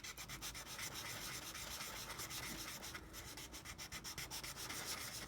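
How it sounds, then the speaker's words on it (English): Hand-sanding an unpainted surface with 600 grit sandpaper, a close, quiet, rhythmic scratching of quick back-and-forth strokes that runs without pause, with no talking. "We start sanding it again."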